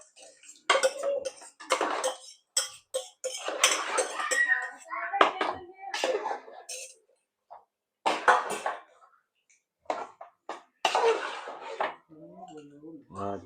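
A metal spoon scrapes and knocks against a pot while kappa biryani, made with cassava and cooked beef, is stirred, giving irregular clinks and scraping bursts with short pauses between them, fairly quiet and close, with some talking mixed in.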